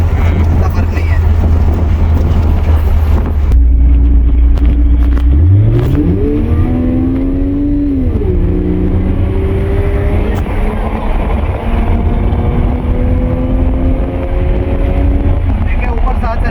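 A Toyota Mark X or Mark II pulls up and accelerates close by, its loud engine note climbing steadily in pitch, then easing and holding, with voices mixed in over the engine.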